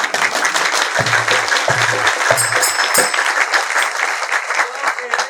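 An audience claps loudly and continuously during a Hindi spiritual discourse, a thick wash of hands that runs under brief bursts of a voice.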